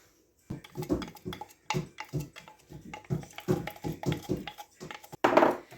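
A wooden spoon stirs beeswax melting into oil in a pot for dandelion salve, making irregular close knocks, clinks and scrapes in uneven bursts.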